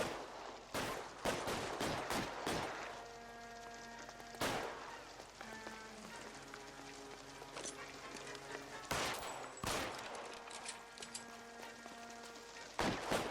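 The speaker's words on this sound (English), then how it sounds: "Lay down some fire." Gunfire rings out in L.A. Noire as sharp, loud shots crack in irregular bursts, a few close together near the start, then again around the middle and end, over a steady hum of background game music.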